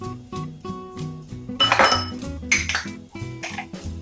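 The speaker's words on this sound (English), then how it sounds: "scrape it out with a spoon if you can" A metal spoon clinks and scrapes inside a container as peanut butter is dug out, a close series of uneven taps and scrapes with brief pauses between them.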